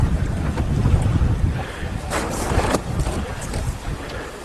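Peter Duck ketch sailing downwind on the East Coast, with wind buffeting the microphone, water rushing along the hull and a jib flapping in brief bursts.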